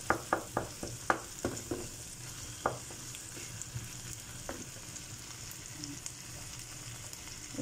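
Tomatoes frying in a pan for sardine spaghetti, a steady close sizzle with a quick run of sharp utensil clinks at the start and a few scattered stirring taps later.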